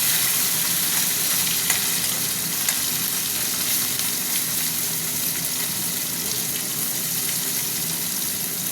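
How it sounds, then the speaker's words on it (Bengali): Amudi fish pieces fry in hot oil with a loud, dense, unbroken sizzle heard up close and alone for several seconds. "তেল গরম হয়ে গেছে, এবার মাছগুলো দিয়ে দিই।"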